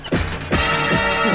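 A brakeless bicycle smashes into a car, a loud close crash followed by a second sharp impact and a ringing metallic clatter that lingers.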